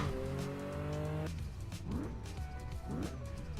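A 1978 Porsche 930 911 Turbo racing at Sebring: the engine note climbs through the gears, drops sharply at each shift and climbs again, with tire noise, steady and fairly loud.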